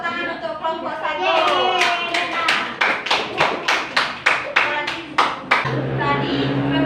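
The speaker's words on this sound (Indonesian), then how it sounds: "Beri tepuk tangan untuk kelompok 1." A sixth-grade elementary school class claps together for a winning group, starting with a looser patter under children's voices, then settling into a run of sharp, regular, unison claps in a classroom.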